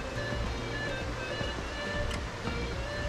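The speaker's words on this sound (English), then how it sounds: "They have a river right beside it. It's really nice. The river is going through the forest." A river flowing through forest at Penglai Creek Nature Park, heard as a steady, broad rushing wash of water that continues evenly throughout with no voices.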